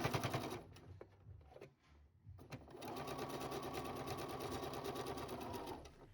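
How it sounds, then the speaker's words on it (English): A sewing machine stitches fabric for a dog bandana: a brief run, a pause with faint handling noises, then a steady, fast mechanical whirring and clicking that continues for several seconds, close and fairly quiet. "Stitch across 1/8 from that folded edge."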